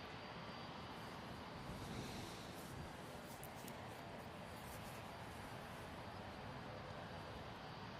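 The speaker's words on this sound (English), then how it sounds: "we've got Jet 2 737 for Rome" A Jet2 Boeing 737 jet airliner at Manchester Airport gives off a steady, broad engine roar that holds at an even level throughout, with no talk over it.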